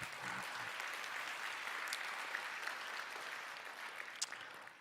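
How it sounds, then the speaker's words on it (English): Steady applause from a conference audience at an opening ceremony, a dense even patter of many hands clapping continuously throughout, moderately distant in a large hall. "I saw applause starting"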